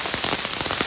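Steady rain falls on a street, a dense even patter of drops on hard surfaces filling the short moment with no voices.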